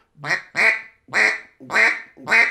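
A handheld duck call is blown in a string of five short, nasal quacks, evenly spaced and loud at close range, with no talking over them.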